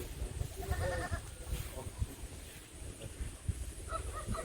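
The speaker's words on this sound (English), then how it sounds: "So we have this goat and a couple of cows behind me." A goat kept with cows and other livestock on a farm bleats a few times in short wavering calls, faint and somewhat distant over rustling outdoor noise and wind, with no one speaking.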